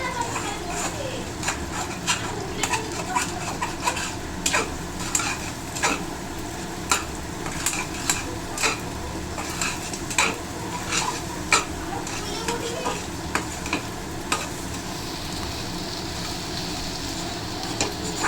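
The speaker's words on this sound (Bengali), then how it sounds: "আমি এইদিকে ডিমের অমলেটটাও করে নিচ্ছি।" An egg omelette fries in a pan for fried rice, a low sizzle under frequent metallic taps and scrapes of a utensil against the pan, with someone talking over it.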